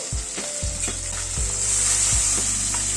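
Pabda fish frying in oil gives a continuous bright sizzle close by, broken by several dull knocks and scrapes of a spatula against the pan.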